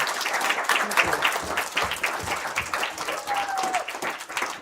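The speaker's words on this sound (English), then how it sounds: "Let's give them a round of applause" A congregation at a Sunday evening church service breaks into applause, a full, lively clatter of many hands with a distinct rhythm of individual claps, plus a faint cheer or whoop partway through.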